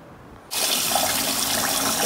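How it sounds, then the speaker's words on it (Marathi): Water gushes steadily from a kitchen tap into a sink as rice for idli is washed, starting abruptly after a short quiet moment and running loud and constant to the end. "ते इथं मी आता 2-3 टाईम धुवून घेते तांदूळ. एकदम स्वच्छ धुवून घ्यायचे."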